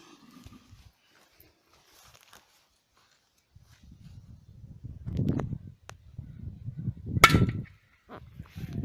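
After quiet, low rumbling handling noises build, a Mini Corsairs firecracker goes off under a large metal pot in a single sharp, loud bang, followed by more low thuds.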